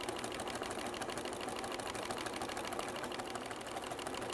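A sewing machine stitching through a quilt sandwich with a quilting needle, running at a fast continuous whir with a dense regular needle rhythm, close and steady throughout.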